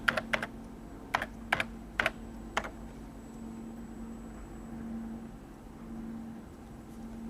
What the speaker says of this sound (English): Why do we have to input everything through the keyboard?